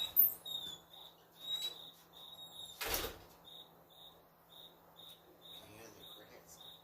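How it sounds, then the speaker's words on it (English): Crickets chirp in short evenly spaced bursts at a steady rhythm throughout, with a brief loud rustle or knock partway through and faint background noise. "Can you hear the crickets? Those are my crickets."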